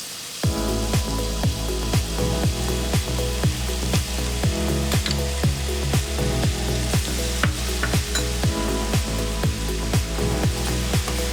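Onion and ginger-garlic paste fry loudly and steadily in a pan for chicken biryani, a continuous hiss broken by regular, rhythmic scrapes of stirring, with no talk.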